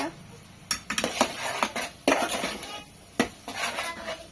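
A spoon stirs chili powder into omelette curry in a pan, giving several clattering scrapes and clinks against the metal at uneven intervals, close and moderately loud, with no talking.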